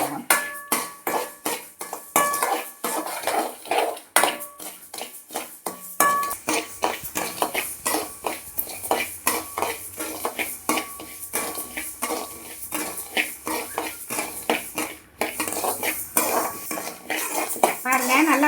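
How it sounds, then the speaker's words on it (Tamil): Foxtail millet and cardamom pods roasting slowly in a pan over low flame, with a steady run of close metallic scraping and clinking as a utensil stirs the dry grains against the pan, no talking. "லோ ஃப்ளேமில் வச்சு அப்படியே மெதுவாக அப்படியே வறுத்துட்டே இருக்கலாம்."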